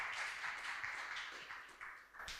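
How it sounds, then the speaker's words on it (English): Audience applause at a trade agency demo day summit, a steady wash of many hands clapping at moderate distance, sustained and fairly quiet, tapering near the end. "Round of applause."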